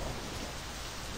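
Steady rain pours in the video game My Summer Car, a soft, even hiss of drops on surfaces that runs unbroken at low volume with no voices.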